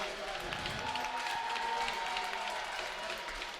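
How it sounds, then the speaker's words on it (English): Crowd applause fills a high school ice hockey rink on senior recognition night, a steady, dense wash of clapping and cheering that holds evenly throughout, with a faint voice beneath it. "Yeah, you can hear this crowd applaud."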